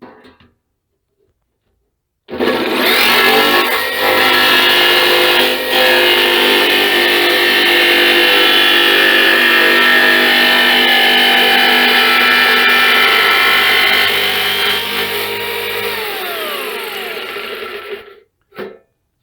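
A jigsaw starts abruptly and rasps loudly and steadily through a metal ammo can for about fifteen seconds, its pitch shifting slightly, then stops with brief sputters.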